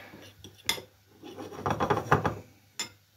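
Curry spices being stirred together in a bowl with a spoon, giving close scraping and clinking strokes in a quick run, bracketed by a couple of sharper single taps of metal against the dish.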